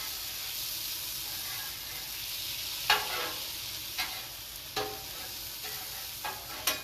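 Hibachi beef sizzles on a greasy grill with a steady, close frying hiss, broken by a few sharp scrapes and clicks from a spatula; no one speaks.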